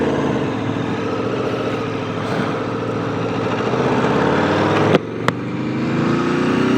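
A 2016 Aprilia RSV4 RF motorcycle engine runs in a continuous close drone, its pitch rising slowly as the revs build, with two brief sharp breaks near the end.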